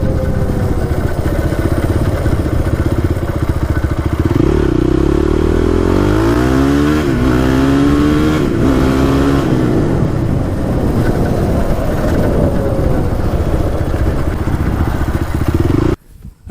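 Honda TRX450R ATV engine run at full throttle, loud and close, rising through gears with repeated revving sweeps and shifts, then abruptly cutting off at the end.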